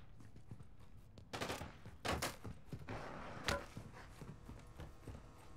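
Gunfire in the video game Call of Duty DMZ, several sharp bursts of shots at uneven intervals over a quiet background, moderately close and fairly faint overall.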